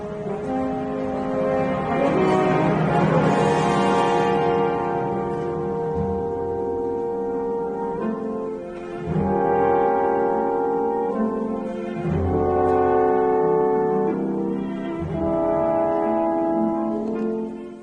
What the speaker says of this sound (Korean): 호른은 어떤 소리가 날지 너무 궁금하지 않습니까?